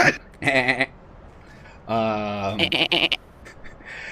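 A person imitates a goat's bleat with their voice, giving several wavering, quavering bleats in bursts, one long drawn-out cry in the middle, close and fairly loud, with no other talk.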